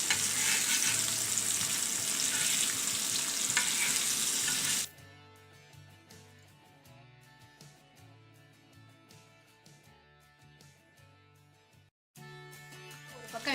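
Sankara fish frying in oil in a pan at home, a loud, hissing sizzle for the first few seconds, then a much softer, steady crackle with faint scraping as the pieces are turned, briefly cutting out before resuming.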